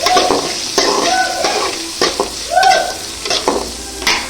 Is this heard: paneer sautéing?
yes